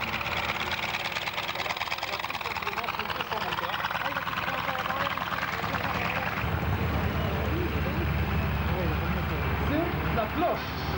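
A powerful aircraft engine at full power at an air show roars continuously and grows heavier partway through, loud and close, with voices faintly mixed in.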